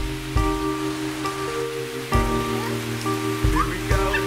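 Steady rain falls outdoors as a continuous hiss with a few sharper splashes, while a baby is carried out into it and people talk over the wet background.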